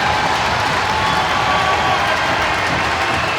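Arena crowd at an ice hockey game between the Sheffield Steelers and Coventry Blaze rising in a loud, sustained roar of cheering and applause that stays dense and steady throughout, with no clear talk above it.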